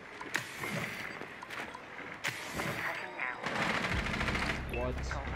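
Gunfire in the video game Rainbow Six Siege on the Border map: scattered sharp shots and a rapid burst near the end, mixed with players talking over the action.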